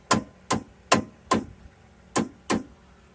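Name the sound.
little hammer tapping on a 1998 Ram 1500 brake part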